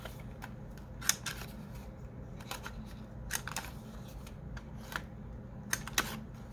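Scissors snip paper scraps to round their corners, a scattering of quiet, sharp crisp clicks and cuts at an irregular pace against a faint low room hum.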